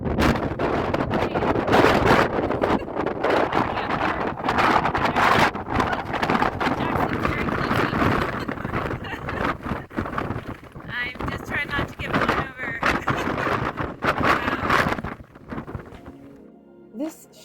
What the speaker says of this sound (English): It was incredibly windy, as you'll see in this upcoming video.